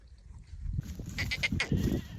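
A few goats bleat close by in short overlapping calls, starting after a quiet moment with low rumbling in the background.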